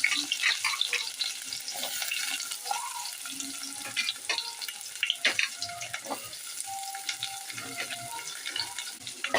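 Chopped onion sautés in oil with fenugreek, cinnamon and dried red chilli for a tamarind kuzhambu, crackling and hissing close by with scattered pops, spoon scrapes and faint background noise.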